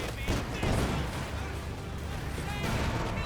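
Anti-tank grenades in Company of Heroes 2 go off in a dense clatter of blasts mixed with battlefield gunfire, loud and continuous, with commentary talk underneath.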